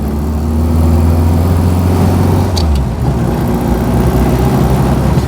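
A 1999 Reliant Robin three-wheeler drives along with a steady, loud mid-pitched engine drone that holds throughout, its tone shifting slightly partway through, with no talking.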